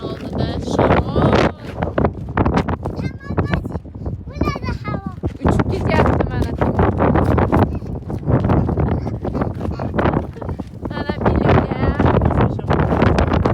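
Strong wind buffets the microphone in gusty, rumbling blasts at a parking lot beside a fuel station in Kazakhstan, while adults and someone talk throughout.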